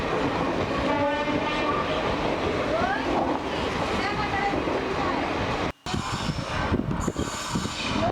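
An Indian Railways WAP1 electric locomotive hauls a train near Bangalore Cantonment. Loud, continuous rolling rumble and wheel clatter fill the scene, with rising horn tones early on.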